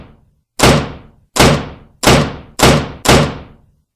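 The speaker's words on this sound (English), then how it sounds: "All 6 sets of double doors slammed open." Six heavy double doors bang open one after another in quick, evenly spaced succession, each a loud, close thud with a short decaying echo.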